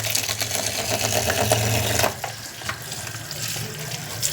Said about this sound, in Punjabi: ਇਹਨੂੰ ਫਰੈਸ਼ ਪਾਣੀ ਛੱਡ ਕੇ ਚੰਗੀ ਤਰ੍ਹਾਂ ਵਾਸ਼ ਕਰਾਂਗੇ